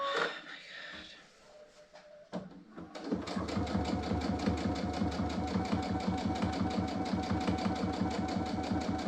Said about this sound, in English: wherever it is now, that's where we're going to sew